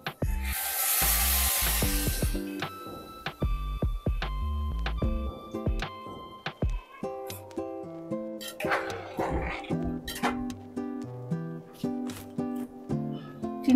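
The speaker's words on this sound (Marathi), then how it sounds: "आता यात गरम पाणी आपण ओतून घेऊया." Hot water is poured into an okra curry in a pan, giving a loud, hissing splash for about two seconds near the start before it gives way to rhythmic background music.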